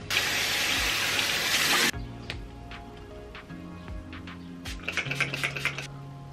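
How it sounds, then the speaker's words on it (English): Tap water runs in a loud, steady gush for about two seconds while someone washes their face at a sink, then cuts off, leaving quieter drips and small clicks. "I'm gonna wash my face now."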